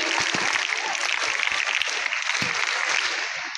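A school prize ceremony audience at a Ganesh festival event bursts into loud, sustained applause for a Class 7 section, dense crackling claps that ease slightly toward the end.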